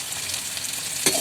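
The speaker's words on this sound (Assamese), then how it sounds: "তাৰপাছত আমি পিঁয়াজখিনি ৰঙচুৱা হোৱালৈকে ভাজি ল'লেই হ'ব।" Chopped onions sizzle in a hot pan for a duck curry, a steady close frying hiss with a quick stir near the end.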